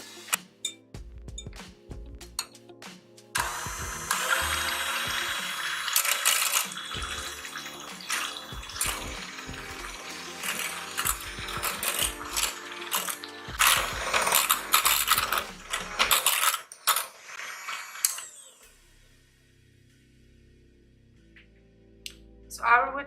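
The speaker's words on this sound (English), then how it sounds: "So I have here very cold whipping cream, and we're gonna beat it until stiff peaks form." An electric mixer beats very cold whipping cream toward stiff peaks, whirring and rattling steadily for most of the clip with bursts of clatter against the bowl, then stopping near the end.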